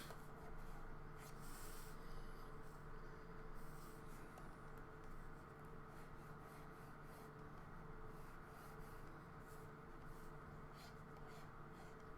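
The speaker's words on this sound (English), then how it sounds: "I'm going to erase what I have" Pencil eraser rubbing back and forth on drawing paper, a faint, steady scratchy friction continuing alone at close range.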